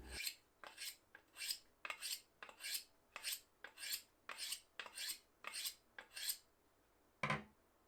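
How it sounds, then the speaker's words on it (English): A Parkside utility knife blade drawn across a sharpening tool, roughly a dozen evenly spaced bright rasping strokes in a steady rhythm, close and clear in a quiet room, ending with one heavier scrape. "Let's try sharpening it again,"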